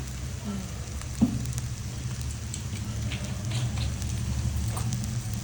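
Vinegar is poured into mushroom fried rice frying in a restaurant-style pan, giving a steady close crackling sizzle with scattered pops and one sharper splash early on, and no talk.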